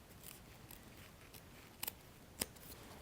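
Scissors snip close through glued crinoline ribbon on a fabric flower, two or three short crisp cuts in a quiet room, no talking.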